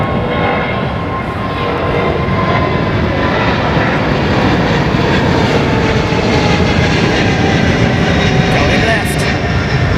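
A heavy jet airliner in an old livery roars loudly and steadily at Heathrow Airport, a broad continuous engine rumble filling the whole stretch without a break.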